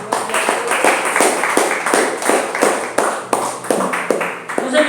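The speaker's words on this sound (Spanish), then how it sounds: "Démosle un aplauso al Señor." A church congregation claps in a strong, rhythmic beat, about two claps per second, over the whole stretch, with voices faintly underneath.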